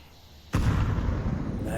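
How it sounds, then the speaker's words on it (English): A grenade blast in a Counter-Strike match, a sudden loud burst about a third of the way in that rolls into a sustained rumbling roar filling the rest, with commentary-like voice energy mixed under it. "Nade's going in from Broj."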